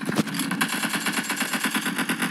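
Rapid automatic gunfire from the battle royale video game PUBG, a steady dense rattle of shots that runs loud and continuous throughout, with no talking over it.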